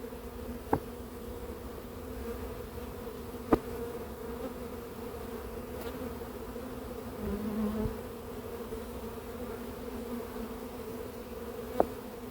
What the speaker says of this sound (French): Le gros de l'essaim est là-bas, je les ai séparés.